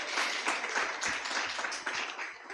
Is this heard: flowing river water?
no